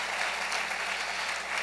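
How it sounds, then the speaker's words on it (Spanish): Dense, steady applause from a church congregation during a worship service, many hands clapping together at a loud, even level with no pauses. "Dale fuerte ese aplauso al Rey bendito"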